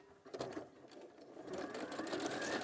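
A sewing machine stitches a quarter-inch seam through two layers of fabric, its motor whirring up quickly and running steadily close by, quiet and continuous.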